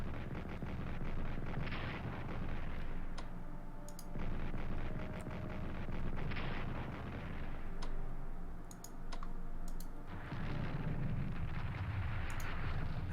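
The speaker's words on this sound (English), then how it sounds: "I could soften up the ground attacks with my own artillery shells here" Artillery shells fire in the World War I strategy game Strategic Command, sounding as repeated low rumbling booms and bursts spread across the stretch, with sharp clicks scattered between them.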